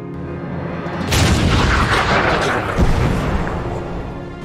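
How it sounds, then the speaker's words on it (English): German heavy howitzer artillery fire used as a sound effect: one loud, deep boom that rolls into a long rumbling tail, with a second heavy thump following. "even after coming under continuous fire from the German Heavy Howitzer"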